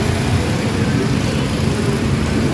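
The engine of a 2017 Toyota Altis with a throttle delay and low power fault runs steadily at close range, giving a constant, fairly loud mechanical hum and whir with no change in pitch and no voices.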